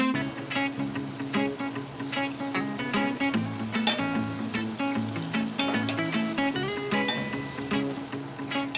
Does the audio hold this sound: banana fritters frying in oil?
yes